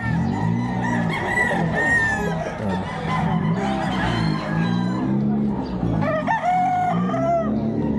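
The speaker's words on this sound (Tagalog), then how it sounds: "At dito sa area na to, ayan, puro manok" A loud, busy chorus of chickens clucking with roosters crowing repeatedly over one another at an early-morning pet market in Bocaue, Bulacan, close and continuous, with a murmur of people in the background.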